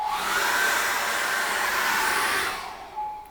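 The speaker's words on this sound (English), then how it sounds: "So now again we'll dry that off with a hairdryer, because I need this dry" A hair dryer blows steadily and loud up close with a broad airy whoosh, then winds down near the end with a brief final puff.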